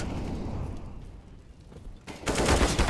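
Burst of gunfire in the competitive shooter game CS:GO, loud dense rattling shots erupting near the end after a stretch of quieter game ambience, with no talk over it.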